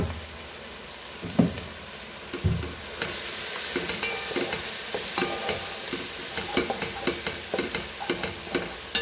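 Coriander and turmeric powder stirred into brinjal masala frying in a pan for a Goan vegetable dish, a steady oily sizzle punctuated by repeated scraping and clacking spoon strokes against the pan, close and clear.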